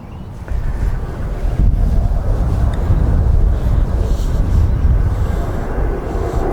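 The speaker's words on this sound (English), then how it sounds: "The wind is so strong here, guys, it nearly actually blew it off the tee there" Strong wind buffets the microphone on a golf course, producing a loud, continuous low roar that surges and eases.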